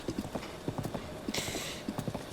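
Horse hooves pounding in a steady galloping rhythm in Breath of the Wild, clear and close, with a brief rushing swish partway through and no talk.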